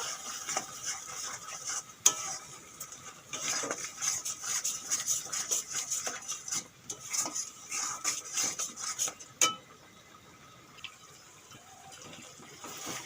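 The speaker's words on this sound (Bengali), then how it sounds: "নুন দিয়ে দেবো সব এগুলো ভালো করে ভেজে নেব" Ground turmeric, chilli, coriander, cumin and salt fry in a pan for an aloo paneer curry, with steady scraping and stirring, utensil clinks against the pan and a soft hiss, close and fairly loud with no talking.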